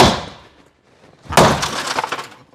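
A glass window is struck at its edge and shatters in one loud crash, followed by a second of tinkling, cascading shards after a brief quiet lead-in.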